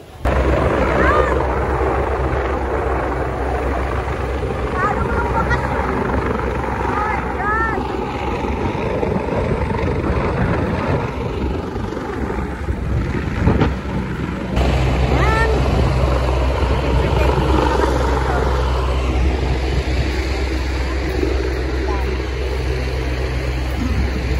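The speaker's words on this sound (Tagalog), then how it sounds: "Wala na yung helicopter." A helicopter flies overhead at Cheung Chau beach in Hong Kong, a continuous low rotor drone that stays loud and near throughout while people talk nearby.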